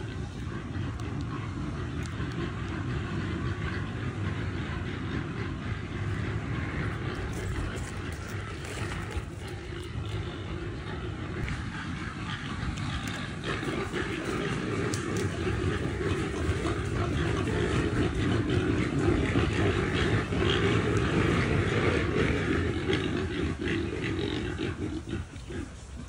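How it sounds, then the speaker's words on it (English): Wild hog sows grunting and squealing at a hog rally in eastern Texas, a dense continuous chorus of rough, roaring calls that swells louder in the second half, no talk. "It's just like such a unique vocalization, and the sows were making that."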